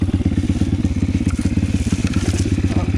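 A Pitgang 140 pit bike engine runs close and loud while riding, with a rapid, evenly pulsing low-pitched exhaust beat and some clatter over it.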